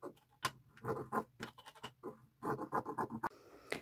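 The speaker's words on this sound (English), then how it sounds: "I am going to cut a few 5-inch strips all the way down this whole thing." Scissors cutting 5-inch strips of tulle fabric, a close series of crisp snipping and rustling scrapes in irregular bursts, with brief pauses between cuts and no talk.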